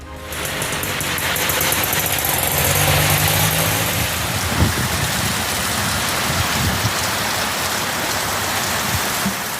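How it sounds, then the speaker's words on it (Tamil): Rain falling across the Ranipet and Vellore districts of Tamil Nadu, a dense steady hiss that continues for several seconds, with a low rumble underneath and no talking. "ராணிப்பேட்டை, வேலூர் மாவட்டங்களில் வெப்பத்தை தணித்த மழை"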